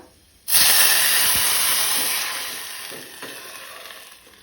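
Cooked red lentils hit hot garlic tempering for Goan masoor ros, setting off a sudden loud sizzle that bursts in and then slowly fades as it settles.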